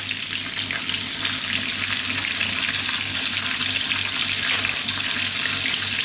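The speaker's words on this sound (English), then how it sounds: "on an above medium heat we're going to cook our onions for about 3 to 4 minutes" Onions and salt frying over above-medium heat in a pan for lamb dopiaza, giving a loud, steady close sizzle with a constant hiss and a low underlying hum, no talk.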